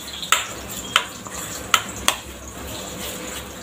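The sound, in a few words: mixing ajwain into tomato puri dough ingredients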